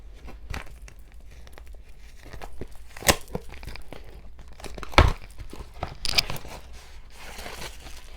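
A small paper envelope bearing a jewelry subscription logo is torn open, with crinkly rips and rustling in short bursts, a couple of sharper tears standing out, no talking.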